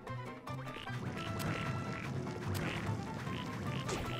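Frogs croak in the Wonder Boy: The Dragon's Trap video game, a string of repeated quacking croaks over busy game music and effects, fairly loud and without talk.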